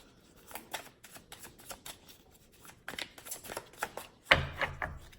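Tarot cards riffle and slide repeatedly in quick bursts, close and fairly soft, ending in a sharper snapping shuffle.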